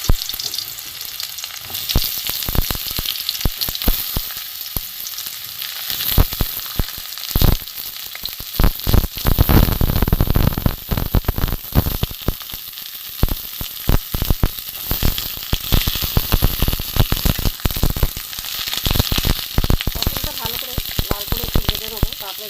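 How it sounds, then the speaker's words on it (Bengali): Pointed gourd fries in mustard oil with a loud, crackling close sizzle that swells and spits in dense bursts, with occasional utensil scrapes throughout. "প্রথমে পটলটা আমি ভেজে নেব।"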